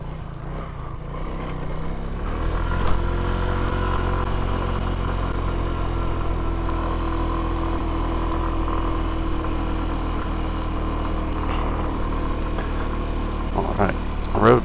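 Motorcycle cruising through a residential neighborhood with the rider's visor open, its engine a steady, loud drone close to the mic throughout, with slight surges in revs and wind noise along the way.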